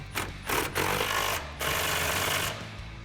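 On a 2014-2018 Silverado or Sierra, control arm bolts are driven tight with an impact wrench during a ReadyLIFT front leveling kit install, in loud, close rattling bursts. Two short pulses come first, then a longer run, with brief gaps between.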